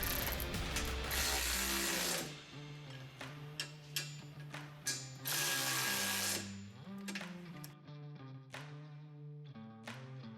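A ratchet wrench tightens bolts on the push beam of a 2022 Toro UTX during a BOSS snowplow install, giving close, loud clicking pawl bursts in uneven runs with short pauses between strokes, no voices.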